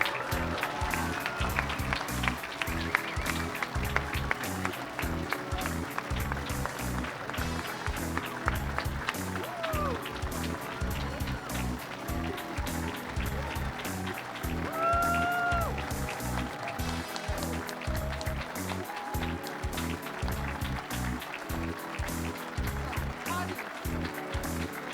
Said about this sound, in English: if you have the time and still power to clap once more